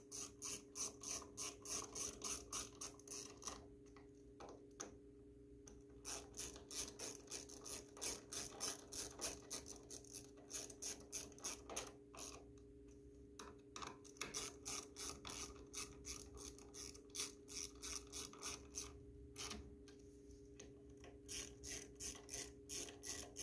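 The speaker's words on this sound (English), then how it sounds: "So we're going to go ahead and tighten these four down." A ratchet wrench clicks in rapid bursts while tightening four bolts on a Reddy torpedo forced-air heater (110,000 BTU) during a rotor change, with short pauses between strokes and a steady hum underneath; no talking.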